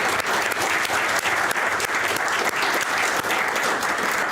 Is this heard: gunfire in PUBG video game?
no